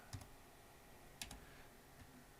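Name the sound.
typing on a computer keyboard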